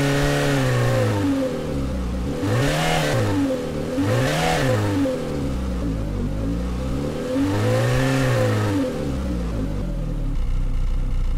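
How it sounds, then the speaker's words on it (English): Car engine revving sampled and looped in the AudioMotors v2 Pro plugin, rising and falling in pitch through several strong rev sweeps with a steady underlying rumble, loud and close with no voices. "So as I just increase the engine revs,"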